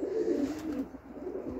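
A pigeon, probably wild, gives soft low cooing outdoors, a steady murmuring call running through the whole moment at moderate distance.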